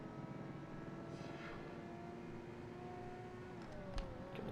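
Engines of race cars, including a Ferrari, in a Project Gotham Racing 2 street race: a steady, loud engine drone with rising whine and whir throughout, without talk.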